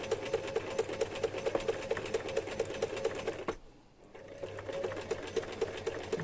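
A domestic sewing machine stitches a cushion cover with blue cotton thread in a steady, close, rapid rhythmic whir that pauses briefly midway and then resumes.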